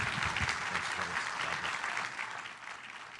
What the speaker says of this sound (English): Let me ask all of you to join me in a round of applause for Dr. Oz and his team.